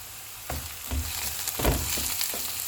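Chopped ginger and softened onions sizzle in hot oil in a pan, a steady crackling hiss broken by a few louder spatters and stirring scrapes, with no voices.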